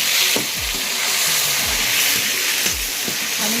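Pasta frying in hot oil, a loud continuous sizzle and crackle close up, with a spoon stirring through it in low scraping strokes every second or so.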